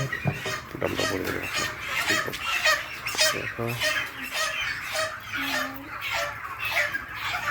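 Chickens at a poultry farm clucking and squawking in a busy flock while birds are caught for sale, with people talking and handling sounds mixed in throughout.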